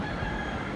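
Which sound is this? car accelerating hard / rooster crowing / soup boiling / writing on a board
rooster crowing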